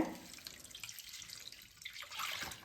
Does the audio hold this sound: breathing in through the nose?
no